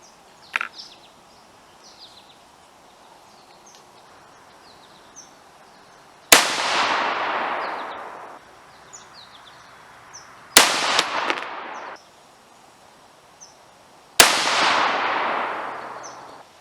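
A custom AR-15 rifle fires three loud, sharp shots at an outdoor range, each followed by a long ringing decay, with pauses between them and faint birdsong in the background.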